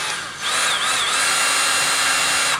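A power drill unscrews the air restrictor from a Nerf Longstrike CS-6 blaster, one steady close whine lasting about two seconds after a brief start.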